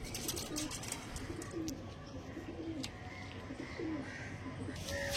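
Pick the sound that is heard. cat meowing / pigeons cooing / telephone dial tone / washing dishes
pigeons cooing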